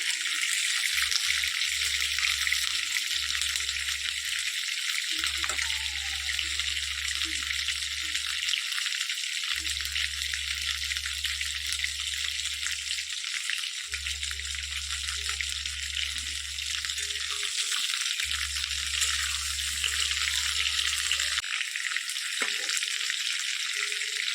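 Cauliflower frying in a pan for a Bengali rohu fish curry with potatoes: a steady broadband sizzle that runs the whole time, with a low hum cutting in and out.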